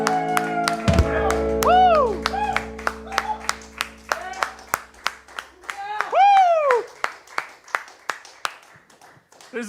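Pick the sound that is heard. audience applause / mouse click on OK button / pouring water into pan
audience applause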